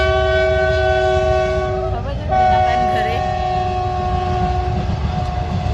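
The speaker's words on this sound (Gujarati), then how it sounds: "ફાટક બંધ છે ટ્રેન આવી ગઈ" A train roars past a closed level crossing with a loud, sustained horn blaring over heavy low rumbling; the horn breaks briefly partway through, then resumes.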